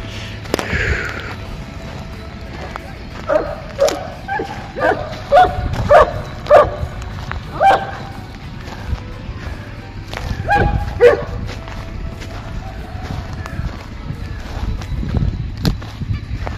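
Large village dogs bark repeatedly in a rural countryside setting, a run of loud, fairly close barks with scattered yips over steady outdoor background noise.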